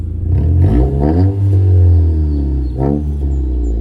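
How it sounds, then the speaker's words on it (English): A loud, raspy straight-pipe exhaust on a Honda Accord revs up several times, rising and falling in pitch, close by and unmuffled. "Give us a little sound check with the exhaust."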